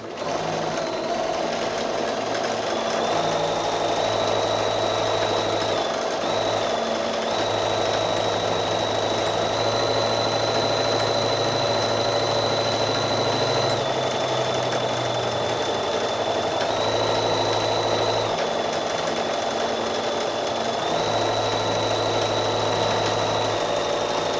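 A sewing machine free-motion quilts a loose meander across a garden path quilt, its motor humming steadily for the whole stretch with frequent small shifts in speed and pitch as the stitching slows and picks up.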